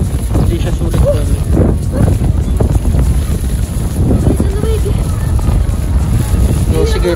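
Strong wind buffets the microphone outdoors in cold weather, a steady broadband roar running through the whole stretch while people talk over it.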